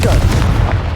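A loud, rumbling magical blast from the Confringo spell in Hogwarts Legacy fills the moment with a dense, booming roar, with no clear separate onset within the short burst.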